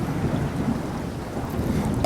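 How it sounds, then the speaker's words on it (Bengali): A sound effect of heavy rain in an audio drama, a steady, dense roar with low rumbling like distant thunder, continuous and fairly loud throughout. "সেদিন খুব বৃষ্টি হচ্ছিল অসময়ের বৃষ্টি"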